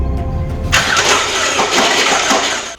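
A Subaru engine, later pulled and torn down, cranking briefly and then catching into a loud, rough, close running roar that continues for a couple of seconds.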